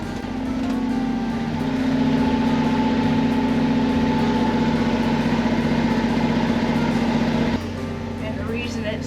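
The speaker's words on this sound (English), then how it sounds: "the reason it's so noisy in here is because we're running a generator to make water" A generator aboard a boat runs to make water, heard from inside the engine room as a loud, steady mechanical drone with a constant low hum, the pitch dropping slightly near the end.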